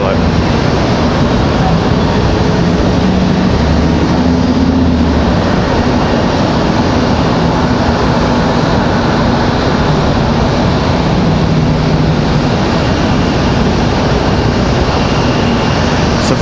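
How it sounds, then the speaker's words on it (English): A WestJet airliner arrives at Raleigh Durham airport with a loud, continuous engine roar filling the air, a low droning hum running beneath, and a voice talking briefly over it. "So finally getting the official WestJet here for the first time."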